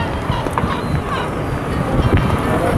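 Wind buffets the microphone during a cable car ride in Portugal, a steady low rumble with gusty swells throughout and no clear talk.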